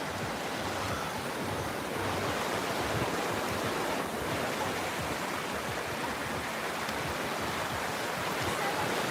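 Ocean surf rolling onto a quartz-crystal sand beach in Florida, a continuous soft wash of breaking waves at moderate distance with no voices.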